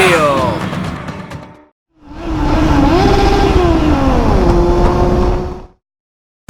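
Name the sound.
BMW S1000RR 2020 motorcycle revving at full throttle on circuit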